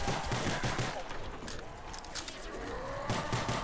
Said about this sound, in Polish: strzelaj do nich